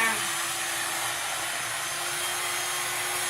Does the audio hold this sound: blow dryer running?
yes